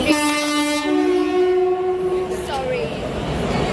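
A loud, sustained train horn blares close by at a railway station, its steady chord sliding down at the end as the train rumbles past.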